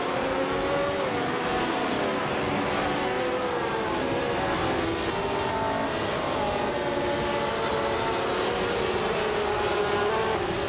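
Several race cars led by a 1967 Ferrari 312 roar at the start of a race at Vallelunga in a racing video game, a loud, steady layered engine drone holding throughout with no talk.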